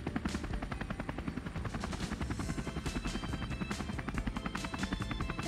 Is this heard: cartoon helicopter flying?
yes